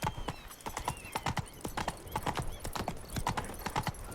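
A horse galloping in the video game The Witcher 3, a fast, rhythmic clip-clop of hooves, close and steady throughout.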